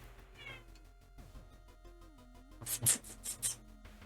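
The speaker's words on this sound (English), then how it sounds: "My cat's yelling at me." A house cat meows insistently several times in quick succession, loud and close, over quiet background music from a video game.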